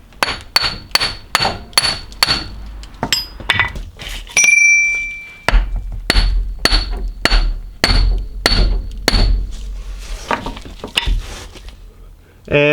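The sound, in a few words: mallet whacks driving in a Land Cruiser CV axle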